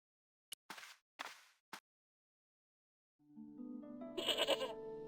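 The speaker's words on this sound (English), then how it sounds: "Those were goat sounds." Four short, sharp bleats of a goat in a video game, spaced apart, followed by a swell of layered tonal game music with bright chiming notes.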